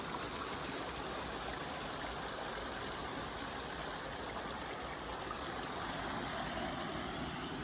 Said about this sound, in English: we have our own brook, complete with, about a 4-foot waterfall